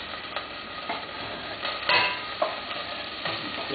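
Shallots frying in a pan as the base for a creamy pumpkin soup: a steady, soft sizzle with a few sharper crackles and stirring scrapes, close and alone.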